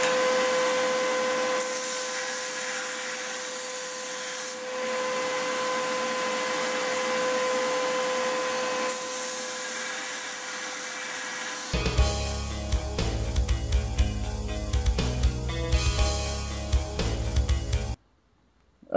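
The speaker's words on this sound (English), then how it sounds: "there's a quick grind with the 40 grit belt, looking pretty good" 1x30 belt grinder with a coarse 40 grit belt profiling a friction folder knife blank: a steady motor whine under an abrasive hiss, then louder, choppy grinding bursts as steel meets the belt before cutting off.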